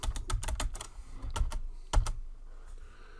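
Typing on a computer keyboard, with quick clusters of close, crisp key clicks followed by a couple of separate taps before trailing off into quiet, with no talk.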